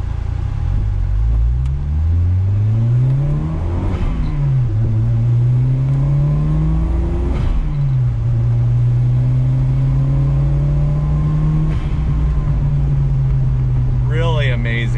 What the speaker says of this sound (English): I like a little bit deeper sound, even though this is an inline four.